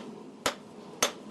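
Two sharp metallic strikes of a flat-faced hammer on metal, about half a second apart, each a bright clean hit over a quiet background, smoothing out dents during metalsmithing.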